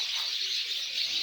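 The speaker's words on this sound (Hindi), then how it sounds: "और सुनिए चिड़ियों की चहचहाहट" Small birds chirp and twitter continuously in a home garden, a dense bright chatter of many overlapping calls at moderate distance with no talking.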